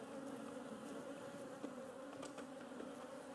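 Bees buzz steadily around a mini nuc hive being stocked. The drone is continuous and close, with a few individual bees flying past, and no voices are heard.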